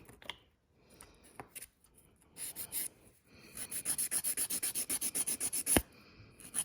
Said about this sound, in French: je vais encore le limer un petit peu sur le côté